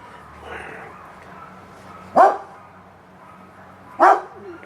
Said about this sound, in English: Just let the ankle biter bark